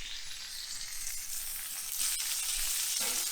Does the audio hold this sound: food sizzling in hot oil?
yes